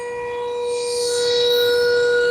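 A warning siren at Dharoi dam wails steadily, a sustained tone with bright harmonics that swells slightly louder as it holds, heard alone with no talk.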